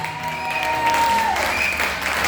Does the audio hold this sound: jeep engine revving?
no